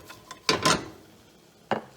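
A metal spoon scrapes around the side of a pan while flour cooks on the stove for creamed turkey, giving a few short scraping strokes, two louder close ones together followed by a lone scrape after a pause.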